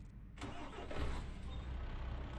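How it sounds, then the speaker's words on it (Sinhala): A truck engine in Euro Truck Simulator 2 cranks and turns over, then settles into a steady, loud rumble that continues to the end. "එන්ජින් එක ස්ටාර්ට් කරමු බලන්න."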